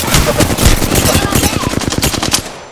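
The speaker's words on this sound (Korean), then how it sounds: "적들이 날 쏘고 있어." Rapid automatic gunfire in the Apex Legends battle royale game, loud and close, a fast run of sharp shots rattling for about two seconds before cutting off.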